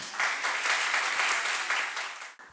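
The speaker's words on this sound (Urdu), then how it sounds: "ہم تمام طلباء و طالبات انتظامیہ کی جانب سے آپ کی تالیوں کی گونج میں ان کو خوش آمدید کہتے ہیں" Auditorium audience applause welcoming a speaker at an awareness session, a dense burst of steady clapping that swells quickly, holds for about two seconds, then cuts off abruptly.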